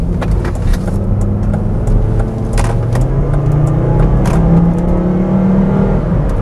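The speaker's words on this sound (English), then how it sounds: "The engine does sound good." A Volvo XC90 2.5T, a P2-generation SUV with about 200,000 miles, heard from inside as its engine accelerates with a loud, steady drone that climbs gradually in pitch, no voices over it.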